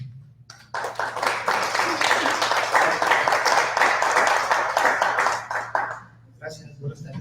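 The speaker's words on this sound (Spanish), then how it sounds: "vamos a dar un aplauso al doctor para dar comienzo con este acto" Audience applause at a book presentation welcoming the author, a burst of dense clapping that swells for several seconds then fades out, with a low steady hum underneath and a voice starting as it ends.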